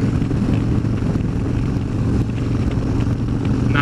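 A Harley-Davidson motorcycle engine running steadily on its first ride of the year, a continuous deep rumble close by with road and wind noise, no talk.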